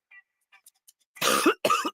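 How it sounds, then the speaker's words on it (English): Two harsh, chesty coughs close up, following a few faint soft clicks in near silence. "Not today, cough and chest congestion."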